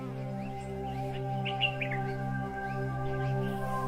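Water birds chirping and calling at Rawal Lake, Islamabad, a clean reservoir refuge beside Margalla Hills National Park, several short tweets in the middle over a steady low mechanical hum.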